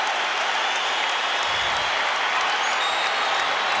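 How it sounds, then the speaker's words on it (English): Packed arena crowd at a 1988 Lakers at Bulls basketball game roaring continuously during a timeout, a loud, dense, unbroken wall of cheering. "Listen to this crowd here."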